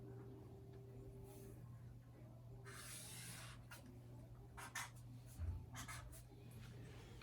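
A marker scratches across paper while a line is drawn on a graph: faint, intermittent squeaky strokes of varying length, close by and quiet, with no talk.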